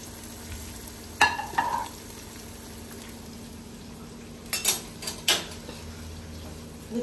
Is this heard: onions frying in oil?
yes